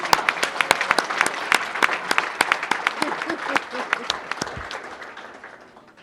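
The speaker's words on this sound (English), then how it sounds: "Big round of applause." Audience applause at a multicultural business forum held by a chamber of commerce, loud and busy with many sharp claps close together, holding steady and then tapering off toward the end.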